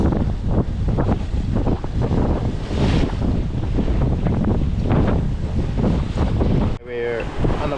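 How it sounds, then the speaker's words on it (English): Strong wind of about 25 knots roars across a microphone aboard a sailboat in choppy seas off Vanuatu, with waves slapping and buffeting gusts forming a loud, continuous rush throughout. "It's a bit windy out. It's about 25 knots and a bit choppy."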